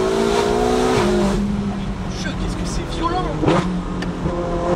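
A tuned 800 hp Ferrari 488 GTB accelerates hard, its engine note climbing and dropping sharply through quick gear shifts, loud and close under a man's speech.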